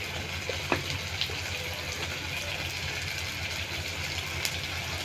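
Fish frying in a pan with ginger, garlic and cumin paste, a steady moderate sizzle with a low hum underneath and a few scattered clinks.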